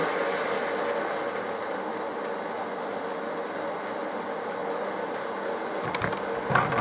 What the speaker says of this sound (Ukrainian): тихенько працює двигун